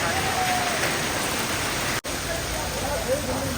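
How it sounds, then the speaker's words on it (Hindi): Hailstones pour down in a dense, continuous rattling hiss, loud and close, with one very brief dropout near the middle. "तेज ओले पड़ रहे हैं जनाब"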